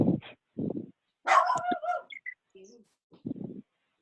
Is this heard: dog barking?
yes